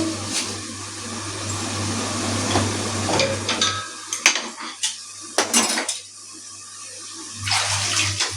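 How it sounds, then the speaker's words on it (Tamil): Cooked lentils are mashed in a pot with a hand churner, with rapid scraping and clattering strokes in uneven bursts and short pauses between them. "இப்போ அதுக்குள்ள பருப்பு எடுத்துருக்கேன்ல அதை கடைக்கணும்"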